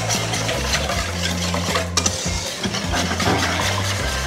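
An egg and vanilla mixture for French toast with challah bread is stirred in a bowl close by, giving a continuous, busy swishing and scraping over a low hum, with no talking.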